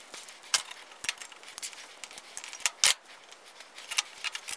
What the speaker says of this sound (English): So we'll get the air chuck tightened on there.